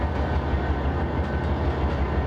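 Simulated train in Trainz 22 on the route from Bakersfield to Mojave, California, rumbling steadily with a low engine drone and faint rail noise throughout, no talking.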